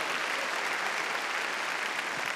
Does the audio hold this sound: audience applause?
yes